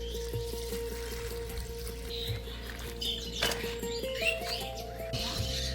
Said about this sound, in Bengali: এবার পরিষ্কার করে ধুয়ে ফেলব।